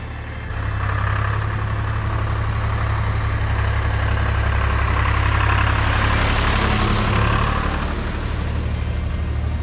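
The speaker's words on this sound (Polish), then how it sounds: "Coś tam tu jedzie. No jedzie. Jakiś traktorzysta." A tractor drives past outdoors, its heavy low engine rumble steady and fairly loud throughout, swelling slightly mid-pass before easing off, with no talk over it.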